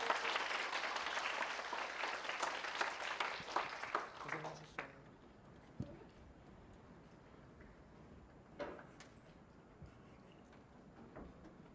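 Audience applause at a youth camp concert event closing out a leader's presentation, fairly loud for the first four seconds then fading into a quiet room with scattered faint claps.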